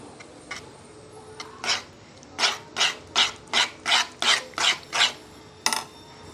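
Mustard powder is stirred with chili powder and turmeric in a bowl, giving about ten evenly spaced scraping strokes, close and moderately loud, after a few scattered scrapes at the start.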